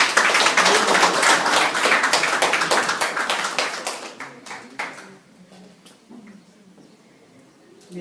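Wedding guests clapping during a Congolese kitoko marriage ceremony, with loud, dense applause that thins into scattered claps and fades, leaving only a few faint claps at the end.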